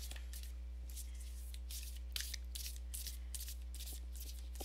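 Quick papery riffles of cards being shuffled in repeated bursts over a steady low electrical hum, close and fairly quiet.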